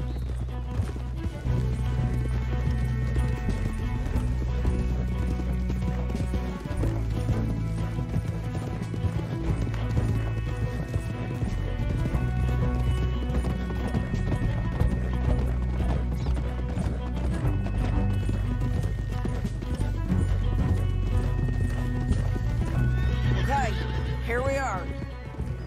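Horses gallop in the video game Red Dead Redemption 2, with steady clip-clop hoofbeats and occasional whinnies under continuous music and dialogue.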